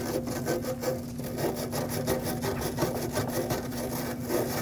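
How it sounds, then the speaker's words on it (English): Sandpaper scrubbing by hand across the sealing surface of a brake master cylinder on a 2009-2015 Honda Pilot, a steady close rasping rub with a faint background hum and no pauses. "I'm going to take some sandpaper and just clean all this off"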